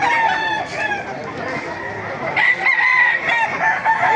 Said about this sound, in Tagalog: Sisay natin mga manok dito, marami pang dumarating ah.